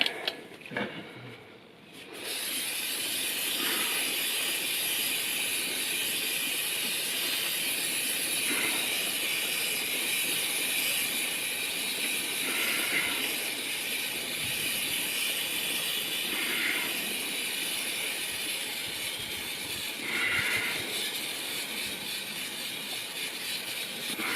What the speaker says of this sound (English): Do one more round of chain cleaner.